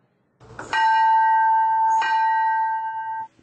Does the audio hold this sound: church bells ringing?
yes